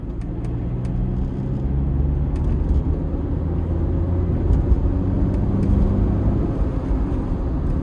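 A fast car passing on a road, heard from inside another vehicle as a steady, loud, low engine and tyre rumble with a faint whir, with no distinct peak.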